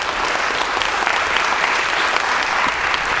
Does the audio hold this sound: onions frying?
no